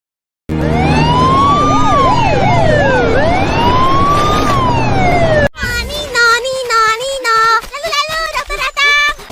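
A wailing emergency siren with rising and falling sweeps plays loud for about five seconds during a school musical drama stage performance about a hit-and-run, then gives way to a choppier, stepped tonal pattern.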